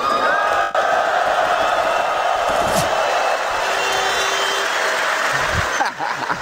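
A large esports crowd at the 2017 CS:GO Major cheers and whoops continuously, loud and close, with a few sharp thumps and brief dips in the roar.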